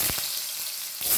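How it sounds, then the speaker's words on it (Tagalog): Potatoes frying in oil in a pan (kawali) for pork kaldereta, a steady close sizzle, with a brief stir or clatter near the start and again at the end. "Prito ko pa po yung patatas"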